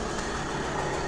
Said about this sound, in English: The engine sounds nice and tight.